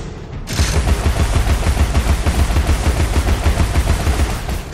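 Cannon fire in the video game Alice: Madness Returns during a battle: a dense, continuous barrage of loud, rapid booming blasts that starts abruptly and hammers on without pause.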